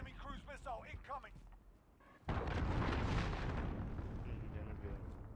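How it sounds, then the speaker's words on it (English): A cruise missile explodes in Call of Duty, a sudden heavy roaring blast that cuts in after someone speaks and then rumbles on loud and sustained to the end. "Enemy cruise missile incoming."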